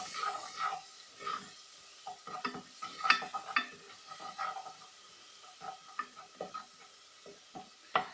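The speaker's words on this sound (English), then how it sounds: "give it a nice stir." Spices are stirred in a frying pan for chicken tikka biryani with turmeric and salt, giving irregular scraping and clinking strokes over a light sizzle, close and moderately quiet throughout.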